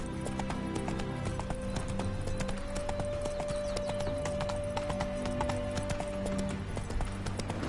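Hooves clip-clop in a steady trotting rhythm as a horse named Roach moves through The Witcher 3: Wild Hunt, with a neigh and soft ambient music tones underneath.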